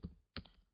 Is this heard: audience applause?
no